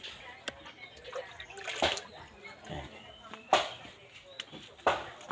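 Water scooped by hand from a rural household water supply for watering vegetable plants, heard as irregular splashes and sloshes with sharp pours at intervals, close and moderately loud amid outdoor background noise.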